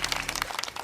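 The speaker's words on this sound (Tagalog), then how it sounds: "Palakpak naman dyan." Hands clap in quick rapid succession at home while chocolate chip cookies bake, a short burst of light, close applause-like claps.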